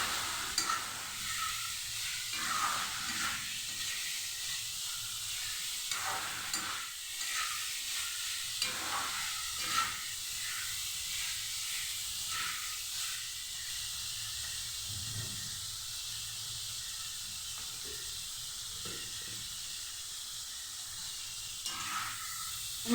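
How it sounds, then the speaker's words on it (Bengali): Bitter gourd frying in spice paste cooked with salt and turmeric, a steady close sizzle and hiss with occasional stirring scrapes throughout, no voices. "এই মশলাটার সাথে তিতা করলাটাকে ভালো করে ভেজে নেব।"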